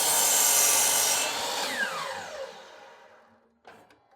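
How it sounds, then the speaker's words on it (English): A DeWalt radial arm saw cuts through wood with a loud whining rasp that winds down as the blade coasts to a stop, followed by a short knock near the end. "I've got my DeWalt radial arm saw"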